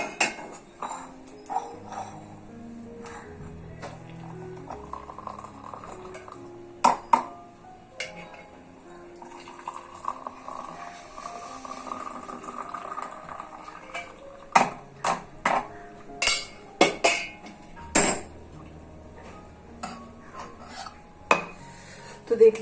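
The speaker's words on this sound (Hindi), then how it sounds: "तो अब हम छान लेते हैं अपनी चाय।" Boiled tea being strained in a home kitchen, with pots and steel utensils clinking and knocking in scattered sharp bursts, louder toward the end, with no talk.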